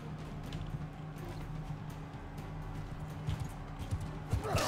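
Steady clip-clop of horse hooves in Total War: Empire running beneath a low, constant background rumble, with a few sharper thuds near the end.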